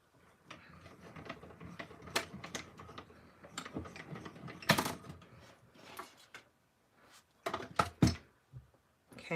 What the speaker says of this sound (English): let's go ahead and die cut both of these out